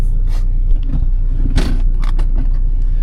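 Boosted manual Toyota 86 engine idling close by, a steady low rumble with faint rattly, scraping texture throughout.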